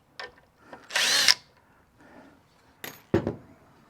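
A power drill backing screws out of a cat tree: a couple of short whirring bursts, one longer spin, and a few brief tool noises with pauses between, close by and fairly quiet.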